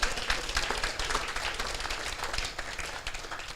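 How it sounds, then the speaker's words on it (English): A crowd at a building groundbreaking in Northeast Baltimore breaks into applause, a steady, dense clatter of many hands that holds evenly throughout. "we can clap for black excellence"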